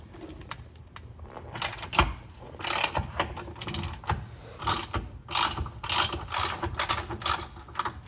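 A ratchet wrench loosens an engine mount bolt with an E18 socket on a Fiat 500 Abarth, giving close, rapid clicking bursts in repeated strokes, with no talking.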